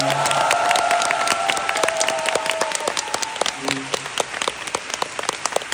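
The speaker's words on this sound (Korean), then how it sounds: "그분들께 정말 큰 박수를 보내주시기를 바랄게요" A concert audience at a singer's fan concert bursts into sustained, dense applause with whistles and cheers rising over it, thinning toward the end while a voice briefly interjects.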